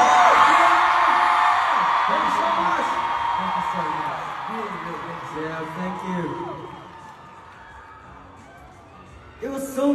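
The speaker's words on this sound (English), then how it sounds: "So let's all scream for the ASL interpreters!" Concert crowd at a show screaming and cheering loudly in a large arena, a sustained wall of high-pitched yells that slowly fades, with a fresh burst of cheering at the very end.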